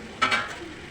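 Soft onions sautéing in a pan for an onion and tomato gotsu give a short stir and sizzle, two quick scraping bursts near the start, then a faint low frying hiss.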